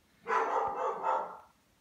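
A pet dog gives a single drawn-out bark or yelp lasting over a second, fairly close and clear, with no talking over it.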